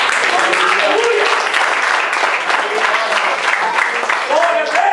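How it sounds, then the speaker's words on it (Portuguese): A church congregation claps together during a lively worship service, dense steady applause mixed with voices and cheering in the room, loud and sustained throughout. "Glorifica o Senhor com suas palmas."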